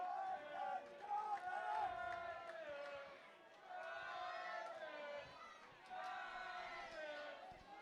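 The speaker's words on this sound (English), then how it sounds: "As you can hear the crowd trying to cheer their team on." Spectators at a Far North Coast rugby union match roar and cheer their team on in a sustained, loud wash of voices that swells and dips over several seconds.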